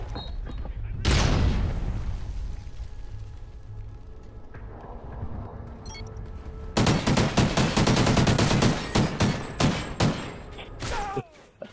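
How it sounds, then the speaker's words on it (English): Call of Duty: Ghosts gunfire, a single loud burst early, then sustained rapid automatic fire and fusillades, heavy and close, with players talking over it. "I think that was a little too many shots."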